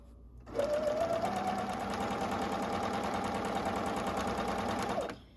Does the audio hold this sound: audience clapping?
no